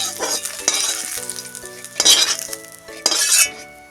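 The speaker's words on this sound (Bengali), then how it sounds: "এখানে দেখুন সুন্দরভাবে সবজিগুলো সব ভেজে নিয়েছি।" Vegetables, bitter gourd among them, sizzle in oil in a kadai while a metal spatula stirs and scrapes, with bright clinks against the pan rising in a few louder bursts.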